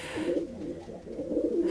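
Rescued pigeons in a foster aviary coo steadily in low, warbling rolls, close and continuous, with no voices over them.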